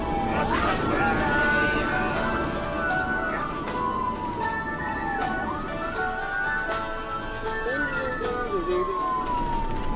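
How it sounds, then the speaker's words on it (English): An emergency vehicle siren wails up and down in long sweeping tones over steady traffic rumble, fairly close and continuous, with faint Christmas music in the background. "Croxy and Sean are battling the traffic to sounds of sirens"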